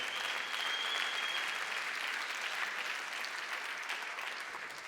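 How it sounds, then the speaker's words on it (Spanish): A church congregation claps together during a Spanish-language sermon, a thick, even wash of applause filling the room at moderate volume, steady from start to finish and tapering only slightly at the end. "¿Cuántos pueden darle otro aplauso al Espíritu Santo en este día?"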